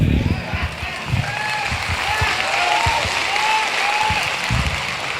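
Sustained audience applause fills a speech hall at a motivational talk, dense and steady throughout, with some cheering and shouted voices rising over the clapping and a few heavier thumps underneath.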